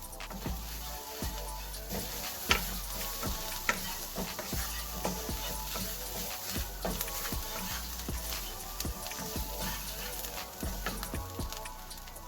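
Chili powder and cayenne are stirred through a hot frying pan of shakshuka, giving a steady close sizzle with repeated scraping strokes of the spoon throughout and no talking.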